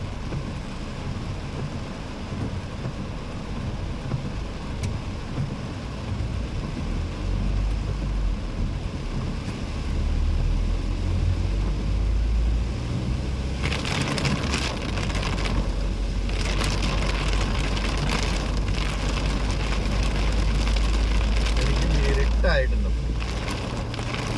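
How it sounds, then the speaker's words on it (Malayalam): Steady heavy rain drums over a low engine rumble, growing louder and denser partway through as the downpour intensifies around a moving vehicle. "നല്ല വെള്ളമുള്ള മഴയാണ് പേടിപ്പിക്കുന്ന മഴ"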